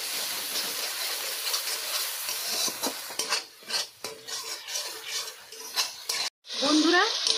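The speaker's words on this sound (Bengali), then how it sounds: "সব মশলার সঙ্গে ভালোভাবে কষিয়ে নেব।" Snakehead fish being stirred with spices and a little water in a pan, giving repeated scraping and clinking of a spoon against metal over a soft sizzle, with a short break near the end before the clatter resumes.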